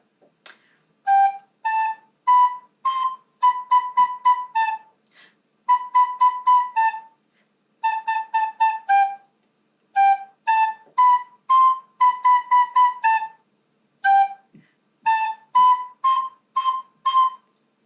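A recorder plays a steady, moderato melody of short, separated notes in phrases with brief pauses between them, clear and close.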